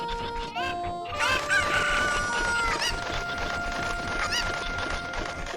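Cuckoo chickens in The Legend of Zelda: Ocarina of Time crow and cluck frantically in overlapping calls over steady game music, loud and continuous throughout.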